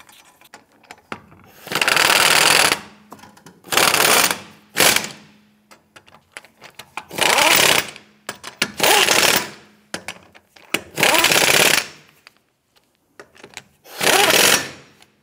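A power tool snugs down the lug nuts on a 2008-2013 Nissan Rogue rear wheel in loud, repeated mechanical bursts of about a second each, separated by short quiet gaps.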